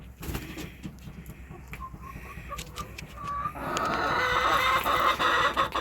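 Pet hens cluck steadily, including two black hens that lay speckled pale eggs, with soft clucks building into louder, busier chatter partway through, close by and with no talk over them.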